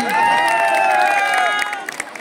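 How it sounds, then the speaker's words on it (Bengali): A crowd at a live stage comedy performance in Basirhat bursts into cheering and clapping, with raised shouting voices riding over the applause before it tapers off. "হাততালি হাততালি হাততালি।"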